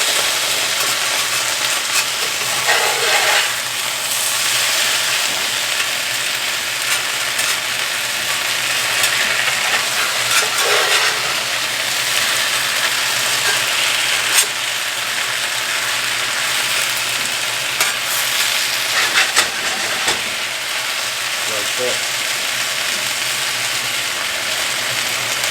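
Potatoes with onions fry in a pan for Cajun smothered potatoes, a loud, steady sizzle throughout with a few scraping, clattering moments as the potatoes are flipped, and no talk.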